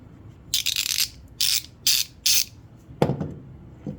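A 3/8-inch 90-tooth comfort grip ratchet clicking in four quick, close bursts of fine rapid ticking, followed by a couple of sharper metallic knocks.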